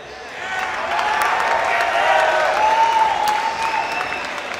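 An esports match crowd applauds steadily, a dense wash of clapping with scattered cheers, sustained for several seconds at moderate distance.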